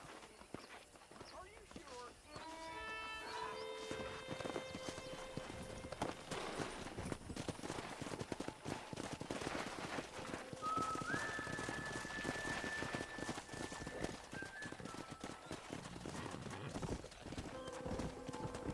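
Wild horses in the Red Dead Redemption video game gallop with steady clip-clop hooves and a whinny, set against a music score with voices talking over it.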